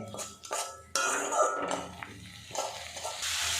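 Spice paste for egg curry being fried and stirred in oil, with a metal spoon repeatedly scraping and clanking against the pan over a steady sizzle, close and fairly loud.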